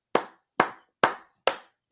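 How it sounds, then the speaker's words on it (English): A single person claps hands five times in a slow, even rhythm, each sharp clap close and distinct, with silence between and no talking. "I'm just going to clap for him right here"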